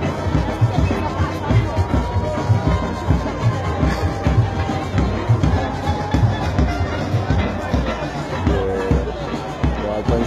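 Crowd noise at a Jamaican funeral dance, a dense, steady babble of many voices with scattered shouts and movement, loud and continuous throughout.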